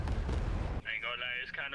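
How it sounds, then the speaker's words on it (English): Heavy bomb explosions from TIE bombers pounding a canyon village in an Arma 3 Star Wars battle, a deep booming rumble for under a second before a voice takes over. "Bomber pilots begin preliminary bombardment of the canyon village."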